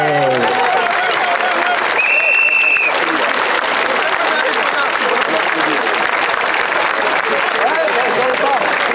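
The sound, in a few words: protest crowd applauding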